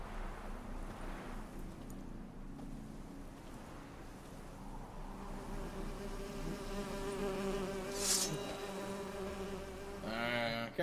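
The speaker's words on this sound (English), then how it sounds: "The birds singing, the bees buzzing." Bees buzz steadily in a Witcher 3 Heart of Stone game scene, a continuous insect drone with a louder, closer pass near the end over faint ambient background.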